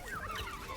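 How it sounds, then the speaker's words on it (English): A bird creature from the video game Temtem gives a short warbling, gobble-like call with rising and falling chirps, fairly close and moderately loud. "It's a bird."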